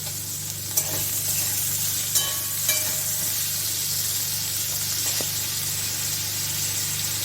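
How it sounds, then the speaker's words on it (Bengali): Salted eggplant slices fry in a little oil, giving a steady, close sizzle and hiss with a few sharp clinks of a utensil being stirred through the pan. "এখন এর মধ্যে আমি কয়েকটা বেগুন ভেজে নিব"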